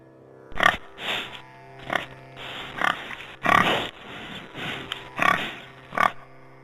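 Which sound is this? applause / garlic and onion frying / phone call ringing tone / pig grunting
pig grunting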